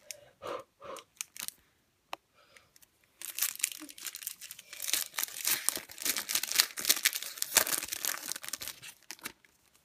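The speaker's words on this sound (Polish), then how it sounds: "No i otwieramy tutaj akurat ostatnia saszetka" A Panini Euro 2016 sticker packet is torn open up close with a long burst of crinkling, ripping foil, preceded by a few quiet rustles and some talking.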